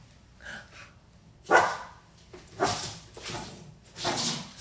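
A playful dog barks and yips in short, uneven bursts at close range over about four seconds, with some whimpering between the barks and no speech.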